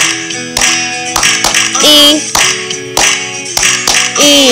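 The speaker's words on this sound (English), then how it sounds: "Clap the letters." Hands clapping along to the letters of the Bingo song in a children's sing-along, sharp claps in a steady rhythm over sung music.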